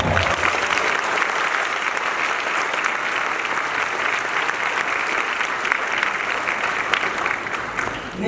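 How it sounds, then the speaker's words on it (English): An audience at a pharmacy graduation ceremony applauding retiring long-term faculty: dense, continuous clapping at full volume, steady throughout and tapering slightly at the very end. "Let's give them a round of applause."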